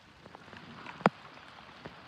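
Light rain keeps falling after a thunderstorm in open countryside outside Corson, South Dakota, a soft, faint, steady patter with one sharper drop or tap standing out midway.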